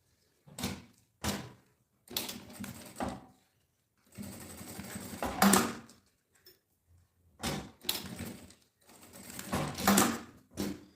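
A sewing machine stitches a backpack strap in several separate bursts of rapid mechanical whirring, close and clear, with pauses of silence between runs.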